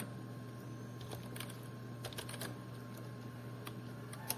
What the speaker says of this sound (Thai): ชื่อเรานะ โอเค พิมพ์เข้าไปนะครับ